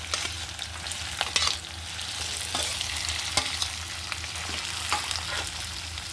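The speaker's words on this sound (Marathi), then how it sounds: "आता मिरची छान झाली आता त्याच्यात घालूया बटाटे" Potatoes tumble into chillies already frying in a pan for sabudana khichdi, giving a loud sizzle with repeated scraping stirs and clatters over a continuous hiss.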